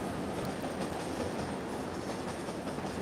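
Trains pass close by with a continuous heavy rumble and a rhythmic clickety-clack of wheels over the rails, plus hints of wheel squeal. The noise is loud and sustained, with no talking.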